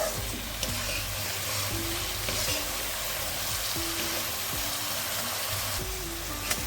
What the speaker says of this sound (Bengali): এখানে আমি এক মিনিট মতো পেঁয়াজটাকে ভেজে নিয়েছি